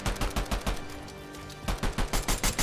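Pistol fire in the Fortnite video game comes as rapid bursts of sharp shots, a quick volley, a brief pause, then another fast string, loud and close with no talking.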